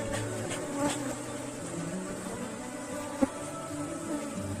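Bees buzz steadily around hives in a Portuguese-speaking apiary, a dense, continuous drone close by with a few louder individual passes and a brief sharp knock partway through.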